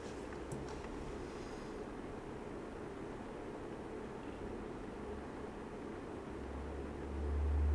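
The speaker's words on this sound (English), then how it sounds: "Bit of sound of re-entry." A spacecraft re-entering the atmosphere in Kerbal Space Program makes a faint, steady rushing roar like wind noise. It swells into a low rumble at the end.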